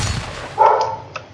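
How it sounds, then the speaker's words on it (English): A single sharp dog bark, fairly close, followed by a brief faint yip, with no one talking. "that's my dog barking"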